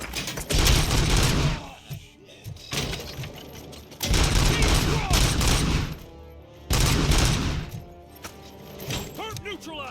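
Turret gunfire in the Robocop Rogue City video game, loud sustained automatic bursts in three long volleys with short gaps, close and harsh, punctuated by mechanical clanks.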